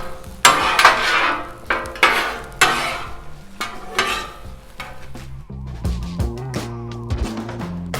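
Metal spatula scraping and tapping across a Blackstone griddle, mixing chorizo and vegetables in a series of close, sharp scrapes and clacks over a low sizzle.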